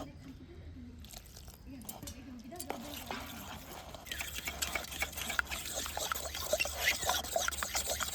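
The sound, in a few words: water poured into flour in a bowl for batter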